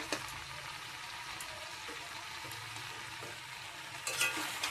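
Fried pumpkin and potato pieces tipped into a hot pan for a Bengali pachan, giving a steady soft sizzle with faint stirring and a brief louder rustle near the end.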